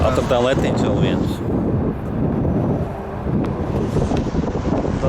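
Wind buffeting the microphone outdoors in a roaring, steady rush that swells and eases, with a voice speaking briefly near the start.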